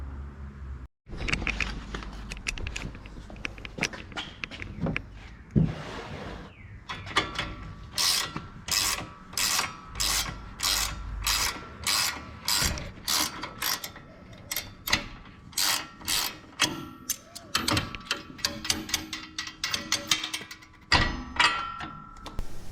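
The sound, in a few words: wrench removing nut from Ford Bronco control arm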